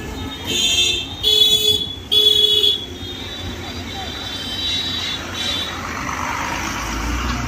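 Busy jammed road near the beach at Old Digha, with horns tooting in the first few seconds, then a steady rumble of engines and roadway noise with faint voices in the background.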